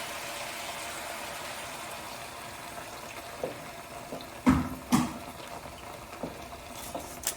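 Water is poured into an osso buco bone broth casserole with beef chunks and apple cider vinegar, a faint trickle followed by a few soft splashes and clunks, with no voices.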